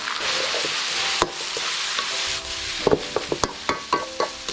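Pork stir-fried with holy basil in a hot wok, a loud continuous sizzle with scraping stirs, then a series of sharp metallic knocks from the spatula against the pan, close up and with no talking.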